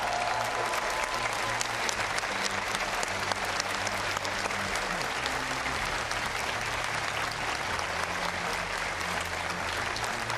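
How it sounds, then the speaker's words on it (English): A large audience at a California governor's race debate in a college auditorium gives a sustained, dense round of applause that stays loud and steady throughout, with no voices standing out. "Give yourselves another big round of applause."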